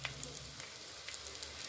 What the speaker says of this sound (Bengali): এই যে মাছের তেলের বড়া হচ্ছে এখন, প্রায় হয়ে গেল বড়াটা।